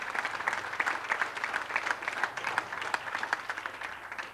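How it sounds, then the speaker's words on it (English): Audience applause fills a banquet hall, many hands clapping in a lively, uneven patter at moderate volume with faint background voices underneath. "a big round of applause, because I think it's fantastic"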